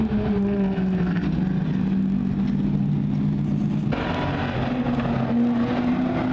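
Superstock race cars at Barona circle the track after a spin-out, their engines droning loud and steady with shifting pitch as they pass, with no talk.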